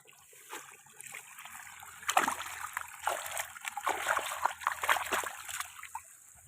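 Water is scooped up and splashed in irregular bursts of splattering and sloshing, growing busier through the middle, faint overall with occasional voices nearby.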